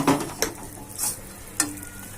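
Sweets frying in hot oil over a medium flame give a soft, steady sizzle broken by a few sharp stirring clinks and splashes. The sound is close and moderately loud, with no talking.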